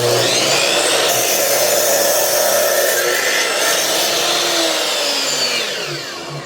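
A power saw rips through a small piece of wood for a tiny heart-shaped box, making a loud, steady whine and cutting rasp for several seconds before it starts to fade near the end.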